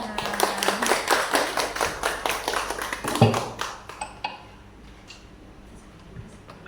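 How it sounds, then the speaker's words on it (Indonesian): An audience at a school presentation on building a positive school culture claps in a steady burst of individual handclaps that tapers off and fades to near quiet. "Tepuk tangan."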